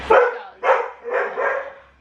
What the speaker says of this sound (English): it's just like constant barking every 2 seconds